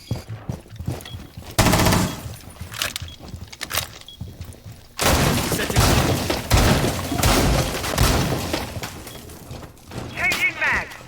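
Suppressed AR fire in a tactical shooter round, bursts of muffled shots in two loud stretches with a brief lull between, mixed with game effects and a spoken voice over parts.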